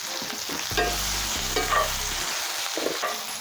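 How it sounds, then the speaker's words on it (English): About half an onion, sliced, sizzles in butter and olive oil in a pan, a close, even frying hiss with a few clinks and stirring scrapes near the start. "those onions, you slice about a half an onion down into the pan"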